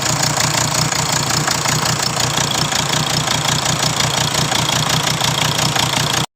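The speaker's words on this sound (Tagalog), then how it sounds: "Kaandar na siya karon pero palyado siya." A 2019 Hyundai Tucson with a D4HA engine and a clogged catalytic converter runs rough and misfires. It gives a continuous, loud, close-up rumble with an uneven pulsing beat throughout.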